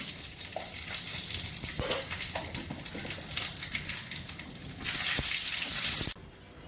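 Dried red chilies, bay leaf and Bengali five-spice crackle and sizzle in hot oil, a steady frying hiss with small pops that swells louder near the end before cutting off abruptly.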